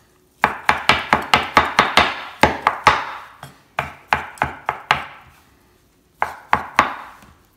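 Imitation crab being chopped with a knife for ceviche: quick bursts of sharp, close knocks on a cutting board, a fast run of strikes, short pauses, then a last few chops.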